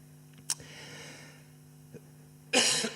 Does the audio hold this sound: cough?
yes